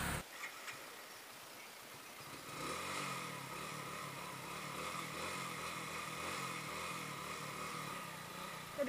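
A motorcycle engine idles and then pulls steadily in first gear during a beginner's riding lesson as the clutch is slowly released, a continuous close drone that grows louder after a quiet start.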